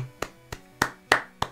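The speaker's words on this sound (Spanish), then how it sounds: "Y es carta para aplaudir al que ha pagado la carta durante 10 segundos." A clapping card played during a live stream sets off a short burst of applause: five separate, crisp hand claps at an uneven pace, fairly quiet and with no voices.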